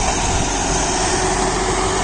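A John Deere 5075E cabin tractor drives a PTO banana mulcher, giving a loud, steady, unbroken roar of engine and spinning machinery with no voices.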